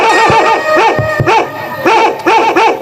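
In a Hindi stage comedy, a performer's voice imitates a dog with loud, repeated barks, yelps and howl-like wails in quick bursts, close and unaccompanied by other talk.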